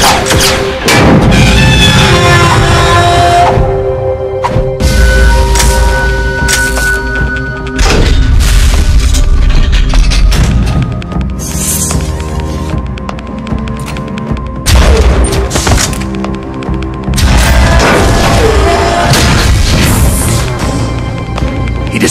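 Heavy explosions boom repeatedly as a radome is destroyed during the final boss fight of the Metal Gear Solid video game, loud layered blasts and crashing thuds rolling one after another over a dense game soundtrack.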